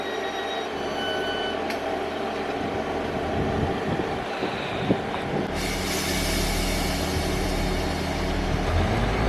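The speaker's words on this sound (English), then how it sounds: "And there goes the train to Wick." A train pulls out of remote Altnabreac station in the Scottish Highlands, bound for Wick, with a steady rumbling engine and rail noise that swells louder partway through, heard outdoors at moderate distance.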